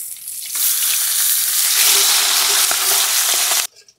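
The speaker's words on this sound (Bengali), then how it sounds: "মাছটা এক সাইডটা ভেজে নিয়েছি," Pabda fish frying in hot oil in a pan and being turned over: a loud, steady sizzle holds for about three seconds with a few light clinks, then cuts off abruptly.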